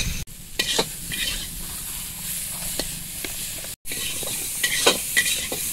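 Goat skin fries in a pan as a curry is cooked, giving a constant loud sizzle with repeated scraping stirs and a brief cut partway through.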